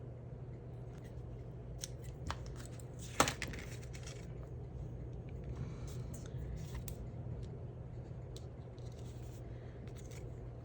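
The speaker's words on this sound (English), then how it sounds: "So let's trim this off." Scissors trim paper for a handmade birthday card, a single crisp snip standing out against a steady low room hum, with faint small rustles and taps scattered through the rest.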